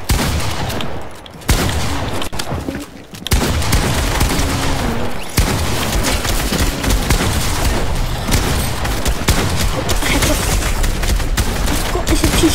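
Loud shotgun fire in the video game Fortnite, with repeated blasts cracking through a dense, steady wall of game action that runs almost the whole time after a brief dip near the start.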